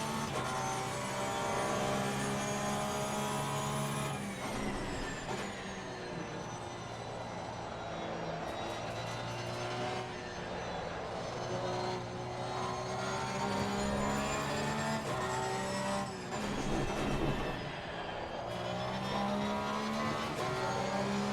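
A race car engine in a sim racing game drones steadily and loudly for the whole stretch, its pitch rising and falling with gear changes and throttle, with no talk over it.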